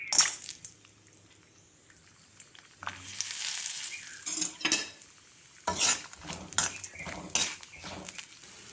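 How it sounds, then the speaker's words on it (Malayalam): Fennel seeds, grated coconut and cashews roast in a pan for chickpea curry, a spoon scraping and clattering against the metal over a soft, intermittent sizzle, close by with no talking. "ബാക്കി എല്ലാ ചേരുവയും ഞാൻ ചട്ടിയിലിട്ടിട്ടുണ്ട് ഇതെല്ലാം നമ്മൾ തോന്നുന്ന പരുവത്തിൽ വറുത്തെടുക്കാം"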